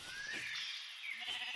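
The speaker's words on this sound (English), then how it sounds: "right in front of me is sheep" A sheep in Minecraft gives a single short, wavering bleat, close and fairly clear, with no talk over it.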